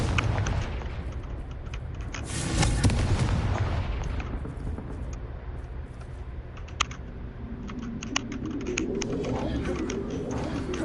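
A fire-blast spell explosion in the Hogwarts Legacy video game bursts out as a loud boom with a rumbling tail. Clicky keyboard typing and a few sharp pops are heard around it, and a voice speaks.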